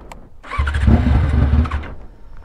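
A Yamaha XJ6 motorcycle engine starts: a short starter whir, then the engine catches and runs loud and close for about a second before dropping back toward idle.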